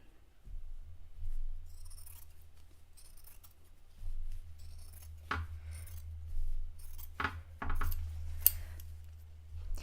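Scissors cut fabric for reusable paper towels in a quiet room, with soft intermittent snips and rustling of cloth, a few sharper snips toward the end over a low steady hum.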